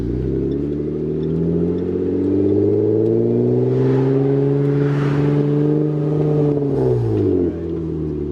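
A car pulling hard under acceleration, its engine note rising steadily then holding before easing off near the end, loud and close with no talking.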